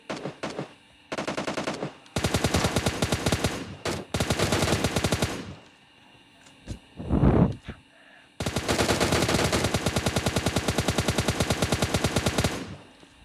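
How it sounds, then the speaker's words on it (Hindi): An M4 rifle fires in a video game in loud, rapid automatic bursts, several long strings of shots with short gaps between them, and a voice briefly calls out during one pause. "आपने देखी ना मैंने इसको कितना साइड वाइड से कितनी गोलियां मारी हैं"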